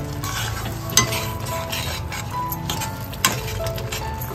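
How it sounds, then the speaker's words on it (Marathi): Crab masala fries in oil in a pan on a home stove with a constant close sizzle, under stirring scrapes and two sharp clinks of a spoon against the pan. "मसाला ना तेलात ना चांगला परतून घ्यायचा थोडा टाइम, मग टेस्ट चांगली मध्ये लागते खेकड्यांना"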